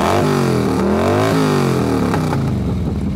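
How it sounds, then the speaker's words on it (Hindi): A loud engine revs up and down, its pitch sweeping higher and lower several times, close by and dominating the scene. "कुछ देर बाद फिर से डीके की बाइक की आवाज़ दोबारा आई"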